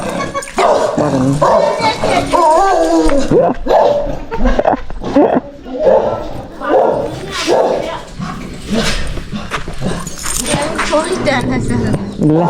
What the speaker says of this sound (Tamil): அது நாய்